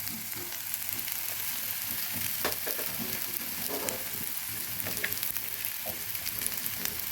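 Spices for a chapila fish curry frying in a pan and being stirred, giving a steady close sizzle with scattered scraping taps of the spoon; no talking.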